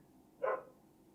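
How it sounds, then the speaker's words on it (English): A dog outside gives a single short bark, muffled and somewhat distant against a quiet background. "Now the dogs are all barking outside again."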